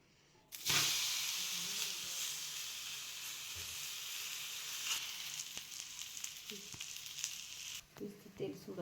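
Methi dhapate flatbread fries in oil with a steady, close sizzle that jumps up as it hits the pan and then holds as a continuous hiss with faint crackles.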